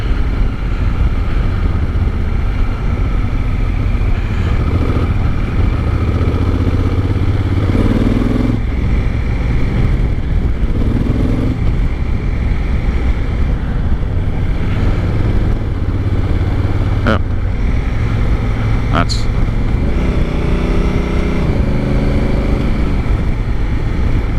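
A 2019 Honda Africa Twin DCT motorcycle rides along with a steady engine drone and wind rush, the automatic transmission audibly shifting with rising and falling engine pitch several times.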